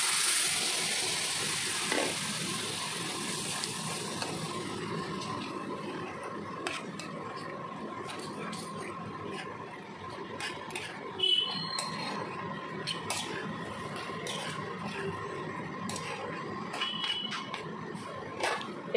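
Dal (lentils) simmers in a pan with a soft, steady bubbling and hiss that stays even and fairly close, broken by a few light clinks, and a voice speaks briefly now and then.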